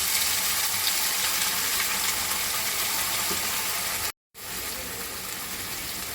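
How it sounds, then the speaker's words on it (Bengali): Onion paste and whole garam masala with dried red chillies frying in a pan, a dense, steady hiss of sizzling, close and even, briefly cut to silence near the end. "বেটে রাখা মশলাটা পেঁয়াজের যে পেস্টটা বানিয়েছিলাম ওই পেস্টটা দিয়ে দিলাম"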